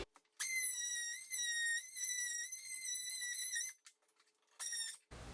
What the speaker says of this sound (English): you're going to run your multi-tool just until you cut out the bottom of the jamb enough for the door to